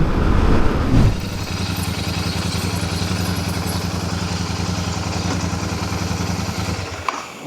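A Royal Enfield Super Meteor 650 motorcycle under way, with a steady, moderately loud engine drone and wind rush that holds evenly for several seconds before dropping away near the end.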